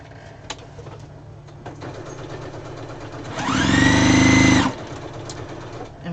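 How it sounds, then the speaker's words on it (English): A sewing machine stitches fabric scraps together for yardage in one loud, steady whirring run of about a second, starting and stopping cleanly over quiet room background. "And we'll sew this piece on."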